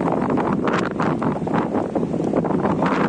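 Strong gusty wind buffets the microphone on a fishing outing, a loud rumbling roar with rising and falling surges and no voices heard.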